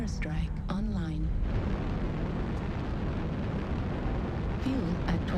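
An airstrike in a video game, heard as a sustained rumbling explosive roar under brief bits of voice-like tones near the start and end.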